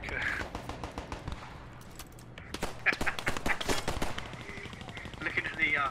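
Gunfire in the World War II game Post Scriptum, with rapid repeated shots and machine-gun bursts that come close and loud, while voices talk over the battle.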